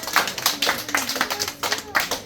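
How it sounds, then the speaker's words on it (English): A group claps in a quick, uneven burst of applause at a community gathering in White Hill, St. Elizabeth, with voices talking over it. "And I want you to clap yourself"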